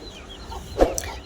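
A hen of the Thurpu Metta breed from Bhimavaram gives a single short cluck, faint against quiet background noise, with no talking.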